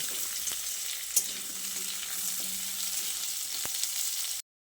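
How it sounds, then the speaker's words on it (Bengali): Radish and potatoes fry in a pan with a steady, even sizzle and occasional faint stirring clicks, close up throughout. "মূলো আলুটাকে আমি বেশ কিছুক্ষণ ভেজে নিয়েছি"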